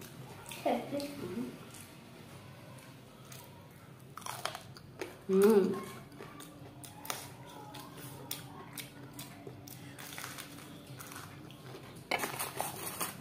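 Someone eats hot fried chop fritters, with soft chewing and crunching and occasional clinks of dishes and cutlery, close but quiet, while people talk intermittently in Bengali.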